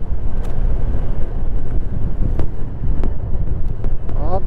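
Strong wind roaring loudly and continuously against the microphone on a motorbike ride approaching Samosir Island at Lake Toba, with faint road and engine rumble beneath and no talk.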